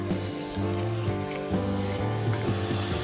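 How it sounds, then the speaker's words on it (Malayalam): Chopped garlic fries in oil while being stirred, a steady close sizzle with soft scraping of the utensil against the pan, continuous and fairly loud throughout. "അതിലേക്ക് ഓയിൽ ഒഴിക്കുക, പിന്നെ വെളുത്തുള്ളി ചോപ്പ് ചെയ്തത് അങ്ങോട്ട് ഇട്ട് കൊടുക്കുക"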